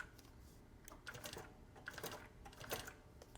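A sewing machine runs slowly in short bursts while making a manual backstitch around a strap on fabric, a quiet, rapid mechanical clatter stitch by stitch.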